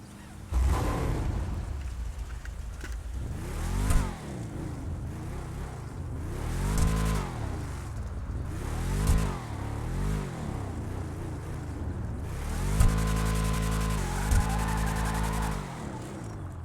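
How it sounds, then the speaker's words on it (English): A trike engine in Grand Theft Auto Online fires up and revs repeatedly, rising and falling in sharp bursts with a deep throaty rumble and a final cluster of harder revs near the end, no voices over it. "let's take a listen to the engine sound and see how this bad boy starts up"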